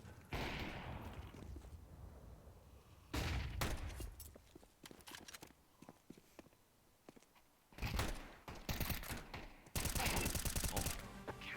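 In a Counter-Strike match, bursts of gunfire arrive in separate loud clusters between quieter stretches of single shots and clatter. The final kill ends the round, and no one speaks.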